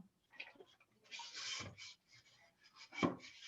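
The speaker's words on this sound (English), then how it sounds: "I get my sanding pad. And then I sort of go around the edge like that." Short bursts of dry rasping as a pottery edge is sanded with a sanding pad in quick passes, close and fairly quiet, with brief pauses between strokes.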